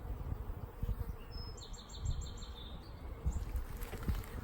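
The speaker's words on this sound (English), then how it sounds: "This wall-to-wall bees right here." A low, continuous buzzing hum of many honeybees close by at a crowded open hive, with a few brief higher tones drifting over it, fairly quiet.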